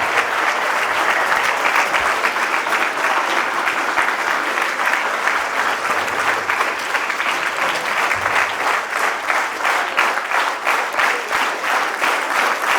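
Sustained applause from an audience at a CBSE school award ceremony in Mohania fills the room, steady and dense throughout with no pauses.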